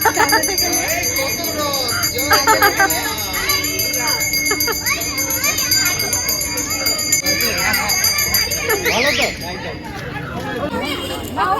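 A bell rings repeatedly on a Ratha Yatra chariot for Jagannath, bright metallic strikes sounding over a lively crowd of chattering adults and children close by.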